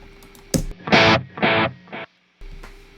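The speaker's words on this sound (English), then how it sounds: "that's the echo" Guitar tones pass through the stereo FX loop of a Reload II rack unit with echo applied, several loud distorted bursts with repeating trails, then a sudden cut to silence before a faint hum returns.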